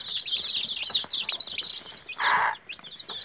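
A brooding hen with her young chicks under a red heat lamp: a steady chorus of high, close chick peeps runs throughout, with a brief burst of the hen's low clucking around the middle and no talking.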